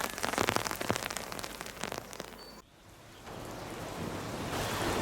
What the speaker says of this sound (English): it's raining a reasonable amount